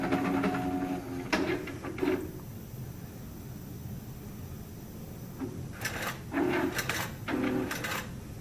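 A computerized quilting sewing machine stitching out a design on a quilt, giving short mechanical whirring bursts separated by quieter stretches over a steady background hum.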